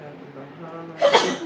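A single sharp sneeze bursts out after a moment of quiet conversation, loud and close, with talking heard before it.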